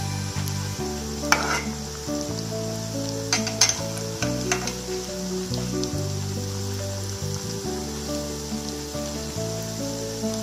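Soya chaap sizzling steadily in shallow oil over low heat, a continuous crackling fry with occasional sharper spits and stirring clinks, close and alone without talk.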